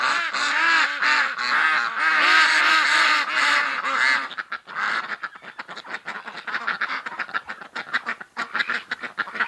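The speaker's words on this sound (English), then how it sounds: "The ducks are being really loud." A flock of ducks quacking loudly outdoors near midnight on a mild November night, dense overlapping calls at first, then a rapid ragged chorus of sharp quacks continuing close by without pause.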